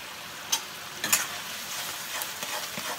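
Chingri paturi simmers in a covered pan with a soft, steady hiss, broken by a few faint clicks and ticks.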